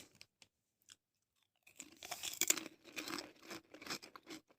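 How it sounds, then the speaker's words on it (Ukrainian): Crunchy, puffy wheat-flour chips are bitten and chewed close to the mouth: a few faint isolated crackles at first, then a burst of loud, brittle crunching that continues in uneven bursts as they break apart. "Дуже хрумкі ламки тануть у роті."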